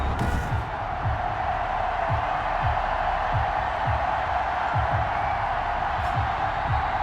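A stadium crowd in the Madden 21 football video game, before a Dallas Cowboys versus Cincinnati Bengals matchup, keeps up a steady loud roar throughout, with no individual sounds standing out.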